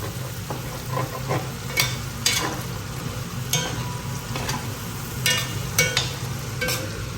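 Skin-on chicken fries in a pan for Filipino chopsuey while being stirred. A steady sizzle runs throughout, broken by repeated scraping strokes of a utensil against the pan, and no one speaks.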